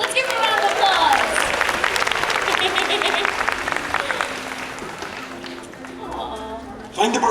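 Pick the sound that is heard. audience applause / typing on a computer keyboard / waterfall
audience applause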